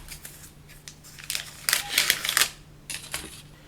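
Packaging around an Apple TV remote is torn open during an unboxing: a few quiet rustles, then a loud close burst of ripping and crinkling, and a shorter tear just after.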